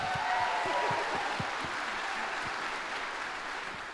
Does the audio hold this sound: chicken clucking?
no